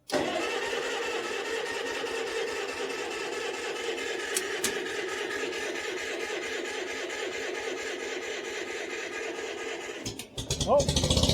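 A vintage tractor engine starts and settles into a steady, loud running drone that continues for about ten seconds, then briefly dips and picks up again near the end.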